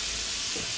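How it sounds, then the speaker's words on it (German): Black Angus beef searing in a little oil in a pan, a steady dense sizzle and frying hiss throughout, close and fairly loud with no talking. "Fleisch anbraten."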